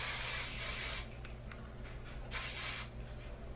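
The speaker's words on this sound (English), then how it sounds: "take your hairspray and then just spray all over" Two bursts of aerosol hairspray, about a second each and separated by a pause, hiss loudly and close up as the spray is applied over hair, with faint rustling between them.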